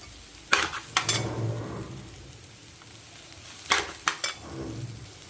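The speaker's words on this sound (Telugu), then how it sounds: "ఇప్పుడు అల్లం వెల్లుల్లి పేస్ట్ వేసుకుందామండి" Ginger garlic paste goes into a hot frying pan for a mung bean fritter biryani and sizzles softly, with a few sharp clacks of a spoon against the pan in two clusters, no talking.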